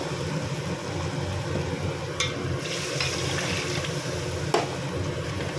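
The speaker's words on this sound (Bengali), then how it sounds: "জল দিয়ে দিলাম" Steady sizzling hiss from a pan of masala-fried potatoes as water goes in for a duck egg curry, with a few faint clinks and a soft thump, close and moderately loud, no talk.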